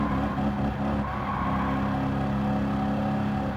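Race car engine in Gran Turismo 7 held near redline while drifting, a loud, steady high-revving drone with layered harmonics running continuously and close throughout.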